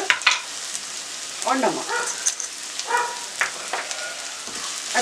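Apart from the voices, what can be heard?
dry spices being stirred and fried in a pan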